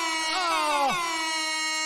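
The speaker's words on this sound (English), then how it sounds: "Where's the DJ air horn?" A DJ air horn sound effect blares once, a loud brassy tone that bends down partway through before holding steady to the end.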